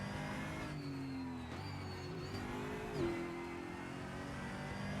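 Race car engine in the Raceroom sim racing game at Mid-Ohio, dropping a gear with rising and falling engine pitch and a brief rev blip, steady and close throughout.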